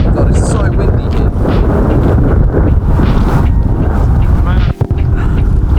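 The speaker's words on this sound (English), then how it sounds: "Oh my god, it's so windy here." Strong wind buffets the microphone at Orwell Country Park in Suffolk, a loud, constant low rumble with gusty surges and a brief dropout near the end, while a voice speaks faintly beneath the roar.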